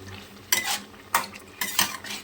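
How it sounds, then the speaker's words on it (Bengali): Shukto curry in a pan after milk is added, stirred with a spatula in three distinct scraping strokes over a low simmering sizzle, close and clear, no talking. "এবার ভালো করে সব শুদ্ধ নেড়ে চেড়ে নেব।"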